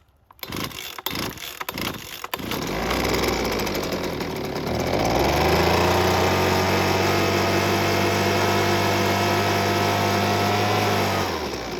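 A Husqvarna handheld leaf blower with a small two-stroke engine runs on full choke: a few starting pulls and sputters, then it catches and revs up into a loud, steady, high-pitched buzzing drone close by.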